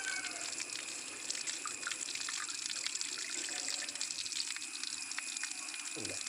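Filtered water runs from the valve of a homemade PVC water filter in a quiet, continuous trickling flow with light splashing, faint and steady.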